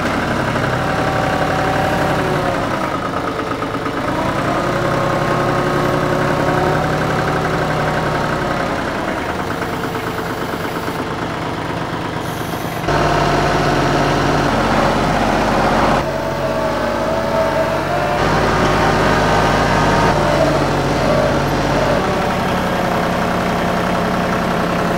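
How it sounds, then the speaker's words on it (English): A big farm tractor engine runs steadily for the whole stretch, a loud close low rumble that idles and then grows heavier partway through as it works, with no talk. "Taking the big tractor down now."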